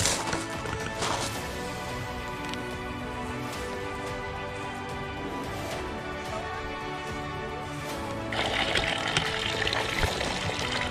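Spring water at the ancient Dacian fortress of Sarmizegetusa Regia pours and splashes steadily, a continuous close, full gush with a brief louder surge near the end and no talk.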